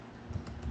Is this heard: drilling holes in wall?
no